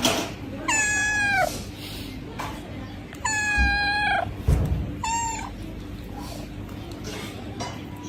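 A cat meows three times, each call a clear, drawn-out wail over steady background noise, with short pauses between and a couple of soft thumps near the middle.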